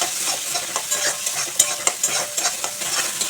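Turmeric and Kashmiri chilli powder being sautéed in a pan for rui fish curry, a continuous close sizzle with quick, regular spatula scrapes and a couple of sharper knocks.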